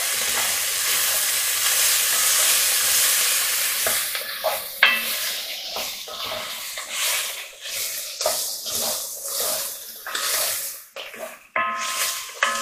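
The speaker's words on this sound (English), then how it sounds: "give that a stir" Beef and bacon pie filling sizzles loudly in a pan, then a spoon scrapes and stirs in irregular strokes while the frying hiss rises and falls close by.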